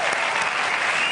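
Studio audience at a Spanish late-night talk show breaks into dense, loud applause that carries on evenly throughout.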